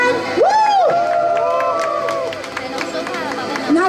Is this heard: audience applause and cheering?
yes